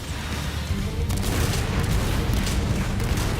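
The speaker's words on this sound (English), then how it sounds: "Ooh, big explosion." A big explosion booms in the video game Gundam Breaker 4, a dense, sustained rumbling roar of game blasts and gunfire-like crackle with no talk over it.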